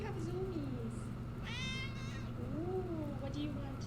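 A tabby cat meows indoors, a couple of short, rising cries at close range over a steady background hum, while a person talks nearby.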